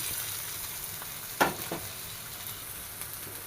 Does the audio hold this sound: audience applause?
no